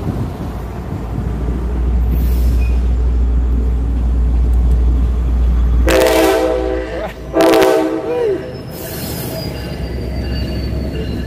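A train rumbles past loudly and continuously, with two sharp squeals of wheels on the rails breaking through midway.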